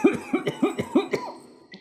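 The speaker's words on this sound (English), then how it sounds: "How long have you had that cough?" A man coughs in a damp, niter-crusted cavern, a close, harsh series of about five evenly spaced coughs in quick rhythm, trailing off into a brief quieter sound.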